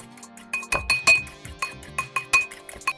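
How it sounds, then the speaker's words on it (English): A whisk clinks against the sides of a bowl while yogurt is beaten for a qeema karahi, a quick irregular series of bright glassy taps close by, with no talking. "whisk it and add it straight in."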